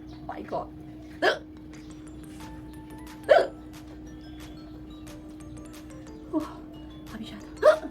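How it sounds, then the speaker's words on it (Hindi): Several sharp, close hiccups from a woman come at irregular intervals over a steady low hum, with faint soft sounds between them. "देखती हूँ कितना तक ये हिचकी आता है।"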